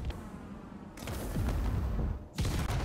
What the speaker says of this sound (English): I got missiles now.